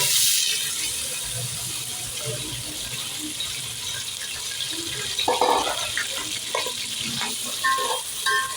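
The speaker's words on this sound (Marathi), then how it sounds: "कांदा पण छान फ्राय करून घ्यायचा" Chopped onions frying in hot oil with star anise, cardamom and cinnamon for a vegetable biryani: a continuous close sizzle with occasional spatula scrapes and clinks against the pan, no one speaking.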